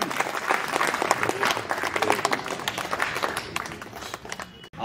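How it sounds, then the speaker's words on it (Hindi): People at a Christmas gathering of clergy and church workers in Gumla Diocese clap together, uneven and lively applause with individual claps standing out near the end. "चलिए तालियां बजा देंगे।"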